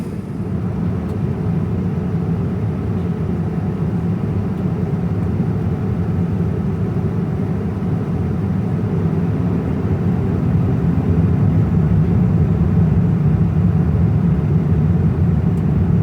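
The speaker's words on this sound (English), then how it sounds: "We're now descending into Brisbane International Airport" Qantas Boeing 787 Dreamliner economy cabin descending into Brisbane on a flight from Hong Kong, a loud steady low roar of engines and airflow that holds constant throughout, with no one talking.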